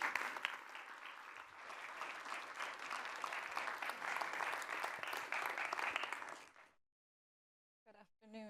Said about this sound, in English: Round of applause for Sevra.